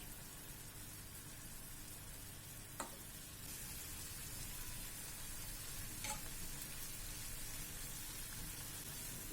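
Chicken tikka pieces fry in a pan just after being flipped, a steady close sizzle and crackle running the whole time with a couple of sharp pops, no voices.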